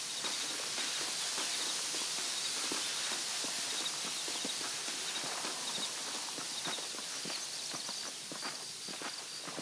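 A horse's hooves walking at a steady pace in the Red Dead Redemption video game, with soft repeated clops under a constant hissing background of ambient noise.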